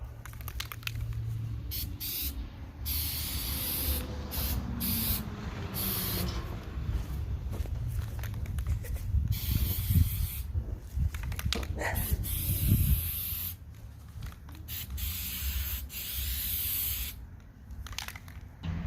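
Spray coating applied around disc golf basket chains, a series of hissing aerosol bursts of varying length separated by short pauses, close and clear with faint clinks of chain between.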